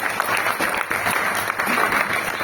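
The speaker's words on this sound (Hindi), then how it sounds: "ताली बजा दें उनके लिए।" An audience at a speaking event in Rajgir, Bihar breaks into loud, dense applause, many hands clapping at once in a steady roar that fills the room.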